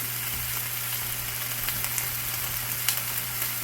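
Food sizzles and browns steadily in a pan on the stove, an even close frying hiss with faint scattered crackles, no talking.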